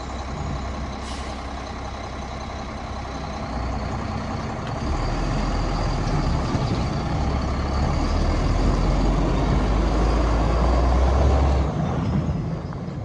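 A 1999 Mack RD688S truck's diesel engine fires up and settles into a steady, loud idle close by, its low rumble swelling slightly partway through, with a hiss like an air brake early on.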